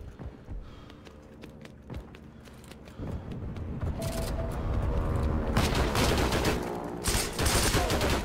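Gunfire in the online shooter Heroes & Generals: scattered sharp shots early on, then a dense, loud stretch of rapid firing and rumbling booms, with footsteps mixed in.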